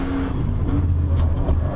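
Nissan GT-R Nismo engine pulls hard in fourth gear, climbing toward the Hohe Acht on the Nürburgring Nordschleife, a steady loud in-car drone with a low engine tone holding throughout.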